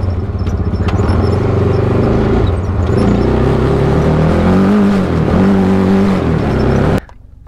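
A Sierra Echo Block Edition electric race car drives past close by, a loud continuous whine with rising and falling tonal motor sweeps over road roar, cutting off sharply near the end.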